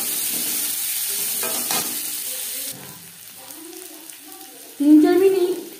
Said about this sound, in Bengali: 15-20 সেকেন্ড জিরে কাঁচা লঙ্কা ভেজে নেওয়ার পর দিয়ে দেব পেঁয়াজ কুচি